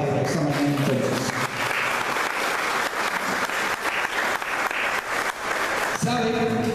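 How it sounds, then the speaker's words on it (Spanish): A church congregation gives a sustained round of applause during a Sunday morning service, broad even clapping with a voice speaking briefly at the start and end. "podemos darle un aplauso a Dios por esa palabra esta mañana entonces"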